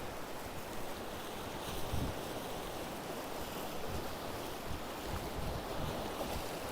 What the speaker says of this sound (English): oh, it is windy